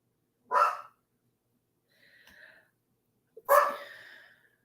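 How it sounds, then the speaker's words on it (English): A dog barks at a UPS delivery person at the front door: two sharp, close barks a few seconds apart, with a soft huffing breath between them. "He barks at everybody who brings"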